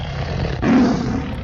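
A tiger gives a short, loud, low roar that swells for about half a second and then fades.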